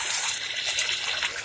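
Hot water poured into a fish curry with onion and potato, a steady broadband splashing trickle running continuously and fairly loud, close by, with no talk.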